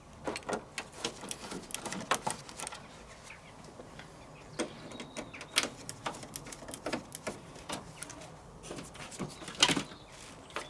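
Screws on a VW T5 front panel are undone with a power tool in short irregular bursts, mixed with clicks and plastic knocks as the top panel is worked free, close and fairly quiet, with no voices.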